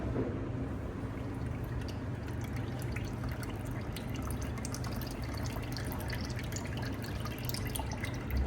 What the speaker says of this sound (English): Make sure you need to strain your mixer nicely.